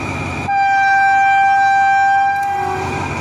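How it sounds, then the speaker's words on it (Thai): A rapid passenger train, service 111 from Bangkok to Den Chai, sounds a long, loud steady horn as it departs Chum Saeng station in Thailand, the blast cutting off near the end. "ได้เวลาออกนะครับรถเร็ว111กรุงเทพเด่นชัย"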